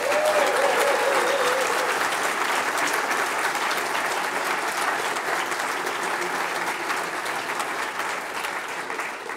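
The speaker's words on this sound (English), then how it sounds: "But give John a big round of applause" Sustained audience applause at an awards event, steady dense clapping filling the room for the full stretch, loud at first and tapering only slightly toward the end.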